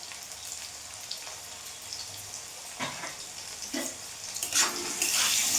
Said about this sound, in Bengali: এবার আমি আলুগুলো ভেজে নেব আলুর মধ্যে আমি লবণ হলুদ দিয়ে দেবো